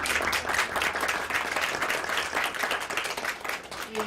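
Audience applause at a round-table panel on sexual violence against children, with dense, steady clapping from a seated crowd filling the whole stretch at moderate level.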